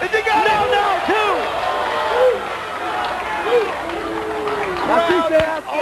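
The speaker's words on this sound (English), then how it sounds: "Crowd on their feet!" A wrestling arena crowd at a 2003 NWA TNA pay-per-view match roars continuously, a loud, sustained wall of cheering and whooping. An excited commentator talks over it.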